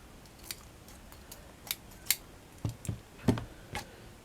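Scissors snip in a series of sharp, irregular clicks up close, trimming around a diamante bling craft piece in a quiet room with no talking.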